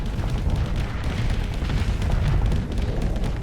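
Bombing explosions in the space combat game Starsector, a dense run of deep rumbling booms and crackling blasts that overlap continuously, loud and close with no talk.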